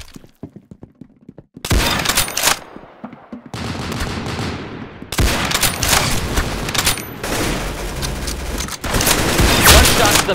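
Gunfire in the Roblox game Arsenal: loud bursts of rapid shots in clustered volleys with short gaps between them, close and harsh, running through most of the stretch without talk.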